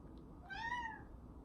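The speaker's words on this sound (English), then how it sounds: "There's my cat." A house cat gives a single drawn-out meow, close and clear over a quiet room with a soft low hum.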